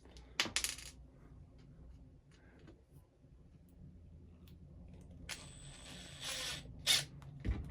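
A small metal nut drops and skitters during work on an RC4wd Land Cruiser scale model's front axle, giving a few brief metallic clinks and rattles over faint handling noise, with no talk.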